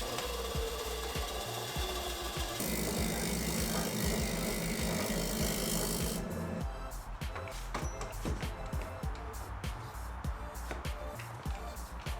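Harsh, steady abrasive rasping of a wooden door hinge mortise being sanded after bandsaw cutting, loud and close, shifting to a scratchier, more broken rhythm partway through with some clatter.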